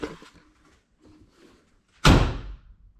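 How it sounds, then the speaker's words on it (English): The door of a Yamaha Wolverine side-by-side swings shut and latches with a single loud, close slam that decays quickly, after a stretch of faint rustling and handling. "Let's try and close the door."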